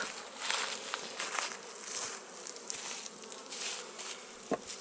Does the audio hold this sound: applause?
no